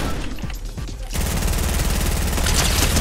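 Rapid gunfire in Fortnite, shooting down a supply drop: a dense, continuous burst of shots that starts abruptly after a second of quieter game noise and stays loud to the end.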